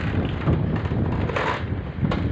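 Gusty wind on an island buffets the microphone with a rough, low rumbling roar that rises and falls throughout.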